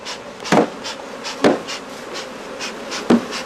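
Honeybees in a hive box during a hive split, a continuous buzzing hum punctuated by three sharp taps on the box, heard close and without voices.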